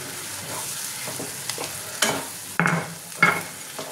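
Lentil paste hits a hot frying pan with a soft crackling sizzle, then a few scraping thumps as it is stirred in, close by and moderately loud, with no voices.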